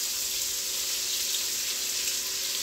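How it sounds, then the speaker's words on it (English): Onion and celery sauté in a pot for clam chowder, a steady, even hiss of frying that continues without a break at moderate volume, close by and with no talk. "we're gonna saute the onion"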